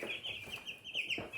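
Cornish Cross meat chickens cluck and chatter softly in a steady, faint stream of calls, close by with no talk.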